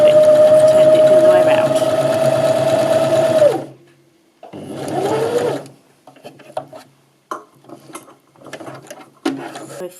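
Sewing machine stitching in a steady, loud mechanical whir with a clear motor tone for several seconds, then it stops and short softer bursts and clicks of the mechanism follow.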